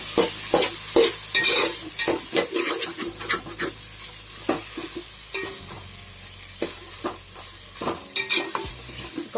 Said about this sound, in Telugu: ఒక 1 మినిట్ ఫ్రై చేసుకోవాలి.